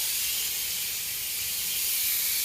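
A spray gun sprays gelcoat reduced 10% onto a 1966 Corvette, a steady, hissing spray without a break, a dense high airy rush with nothing else audible behind it.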